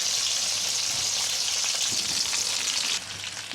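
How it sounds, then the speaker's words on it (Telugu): Curry leaves added to hot oil with green chillies, frying in a pan for curry leaf rice, giving a steady bright sizzle and crackle with faint stirring noises, no voices. "కొద్దిగా వేగాక కరివేపాకు వేసేసుకోవాలి ఒక బౌల్ నిండా."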